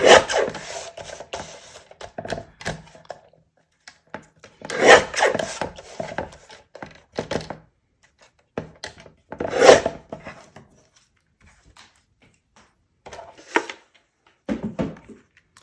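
Card stock trimmed a quarter inch along each side with a paper trimmer: a handful of short rasping cutting strokes, each a quick scrape, separated by quiet pauses.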